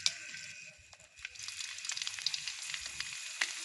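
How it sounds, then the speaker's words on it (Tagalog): Dried fish (tuyo) frying in a pan gives a soft, steady sizzle with small crackling pops, heard faintly and alone. "Mag-prito na ako ng tuyo mga ka-baby loves"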